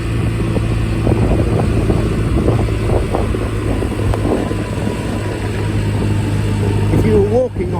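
A Honda SCV100 Lead scooter engine drones steadily as it climbs a steep lane, a constant close hum with heavy wind buffeting over it and a brief dip near the end.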